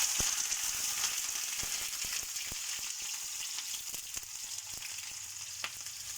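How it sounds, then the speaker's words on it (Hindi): Onions fry in hot oil in a pan, giving a steady, bright sizzle up close with scattered soft ticks and pops throughout. "मैंने ऑयल जो है ना वो गरम करने के लिए इधर पैन में रख दिया है। इसमें मैं प्याज डालती हूँ।"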